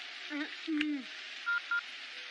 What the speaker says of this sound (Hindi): 1 मिनट रुको, एक फोन करती हूँ।